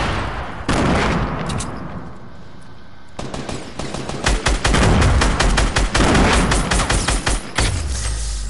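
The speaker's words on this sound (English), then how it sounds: "Those are my grenades." Grenades explode in the video game Fortnite, heavy booming blasts mixed with rapid gunfire. The bursts come loud and close in an irregular, clustered rhythm.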